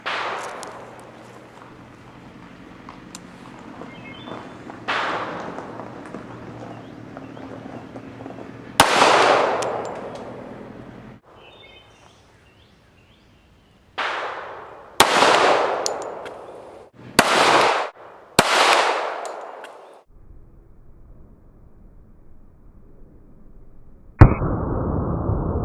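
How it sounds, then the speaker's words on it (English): Pistol shots from a .45 ACP fired at a honeydew melon outdoors, about six sharp reports spaced unevenly with echoing decay, loud and alone, followed by a brief higher ringing tone. "Let's give a honeydew melon a try with a 45 ACP."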